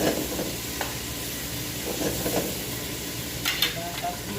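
Meatballs frying in a hot pan until golden brown, a soft steady sizzle with light stirring and a few faint pan clinks close by.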